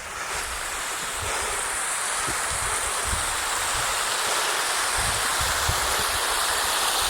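A cold stream of water pouring out of a cave near Trollkirka in the Norwegian mountains, a steady, dense rushing wash, close and unbroken throughout, with low rumbling surges underneath.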